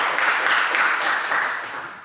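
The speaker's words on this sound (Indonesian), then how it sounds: "Oke, tepuk tangan." Students in a classroom clap together, producing a brief dense wash of applause that swells and then fades over about two seconds.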